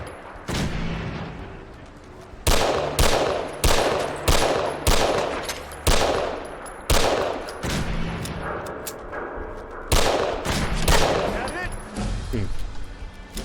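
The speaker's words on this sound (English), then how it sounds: "Some of the shots are on target, but I guess the pistol is still recoiling" Pistol fire from Fallout 4 cracks out in sharp repeated shots, spaced bursts of several rounds loud and close, with game ambience and occasional voice chatter between volleys.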